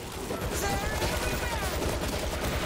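Rapid, dense gunfire from World War Z, a continuous rattling stream of shots at close range with shouted voices mixed in.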